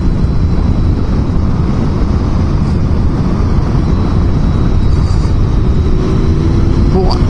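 A Honda VFR750 motorcycle ridden in fourth gear, its engine a steady loud drone with rushing wind, continuous and close throughout.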